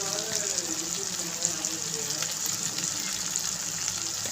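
Eggplant sautés in a pan for a Tamil dried-anchovy curry, a steady hissing sizzle with light crackle, continuous and moderately loud under a faint background hum, with no talking.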